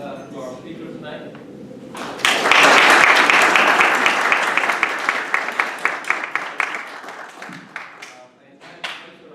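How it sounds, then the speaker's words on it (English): An audience applauds a speaker at an evening talk on geospatial big data. Loud, dense clapping bursts in after a quiet moment, holds strong for several seconds, then thins into scattered individual claps before fading. "Join me again in extending a very warm applause to our speaker tonight."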